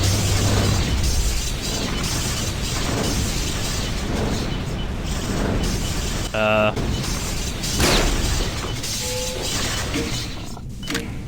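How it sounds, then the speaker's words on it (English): Video game explosions from satchel charges: several booming, crackling blasts go off one after another over a steady background of game noise. "Are those explosives we're hearing? Yeah, that's just me throwing satchel charges around."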